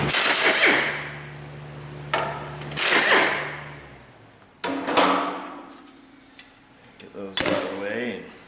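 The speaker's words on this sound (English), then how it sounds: "Got to get in there with a 1/2 inch impact and see if we can't just snap these bolts loose and get them out of there" A 1/2 inch impact wrench breaking bolts loose on a Subaru EJ253 engine during timing belt removal, firing in several short bursts of whirring and hammering with metallic clanks between them, close and fairly loud.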